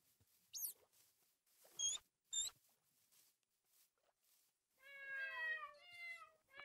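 Cats from the Minecraft Mo'Creatures mod meow in short, separate calls, followed near the end by a longer run of layered, overlapping mews, fairly clear and close with no talking.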